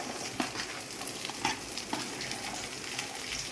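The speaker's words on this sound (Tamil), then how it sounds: "பொரிஞ்சு வந்ததுக்கப்புறம் நம்ம ஃபைனாக சாப் பண்ணி வச்ச ஆனியன்ஸ் ஆட் பண்ணிக்கலாம்." Chopped onions fry in hot oil after ginger-garlic paste for a homemade mutton biryani, a steady close sizzle with small crackles and occasional stirring clinks.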